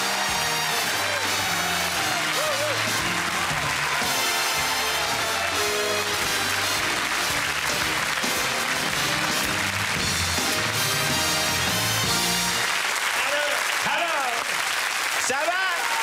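A television studio audience on Sacrée Soirée gives Michel Leb sustained, dense applause and cheering, loud throughout, mixed with music and a voice speaking over it.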